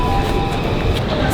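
Low, steady rumble inside a moving train, a constant hum of the carriage with no clear voices.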